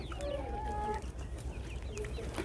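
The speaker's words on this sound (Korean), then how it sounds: "오골개와 닭들도 나와 있네요." Chickens, including silkies, cluck and chatter nearby at an outdoor five-day market in Yeoju, a few soft overlapping calls over a low background hum.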